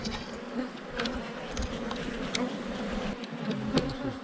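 Honeybees buzzing in a dense, continuous drone around an open hive the day after swarming, close and steady throughout with no talk.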